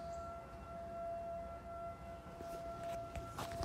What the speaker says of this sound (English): You guys hear the tornado siren?